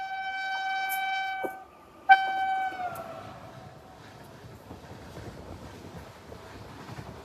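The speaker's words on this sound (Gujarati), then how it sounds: "જો મિત્રો ક્રોસિંગ હતી ટ્રેન" Train with a loud, sustained horn blast passing a railway crossing near Marwar Bithdi village in Rajasthan, India, the horn sounding twice before fading into rumbling wheels and wind noise.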